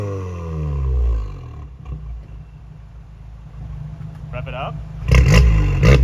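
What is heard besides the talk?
VW MK7 with APR catback exhaust, driving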